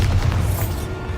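A Bombarda spell detonates in Hogwarts Legacy, one short deep boom with a low rumbling tail.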